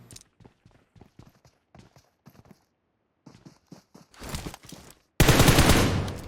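Gunfire in PUBG Mobile: after scattered quiet taps, a loud dense burst of rapid shots erupts near the end, close and harsh, with no talk over it.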